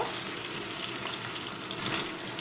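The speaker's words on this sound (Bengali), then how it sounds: "উল্টো পাল্টা ভালো করে ভেজে নেব মাছগুলো" Fish frying in a pan and being turned over, giving a dense, even hiss of hot oil that holds steady and fairly soft throughout, with no voices.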